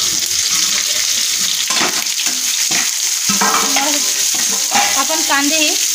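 Sliced onions fry in hot oil with whole cinnamon for a green chicken curry, a steady close sizzle with stirring clatter and scraping throughout, a faint voice talking underneath.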